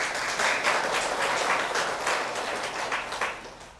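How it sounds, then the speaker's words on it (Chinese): Applause from listeners at a Buddhist dharma talk, many hands clapping in a full, steady roar with gently pulsing rhythm across the whole stretch, no voices over it. "愿意的人请鼓掌"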